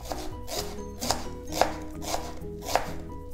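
A knife chops through an onion on a cutting board in steady, evenly spaced thuds about every half second, close and clear with no talking.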